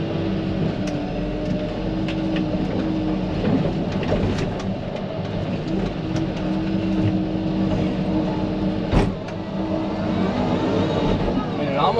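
A Komatsu PC88 excavator digs and pulls small stumps from soft dirt, its engine a loud, constant low rumble with creaks and clunks of the working bucket throughout.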